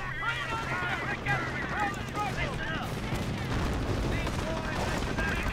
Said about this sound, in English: So they are firing Panzerstrecks at my troops.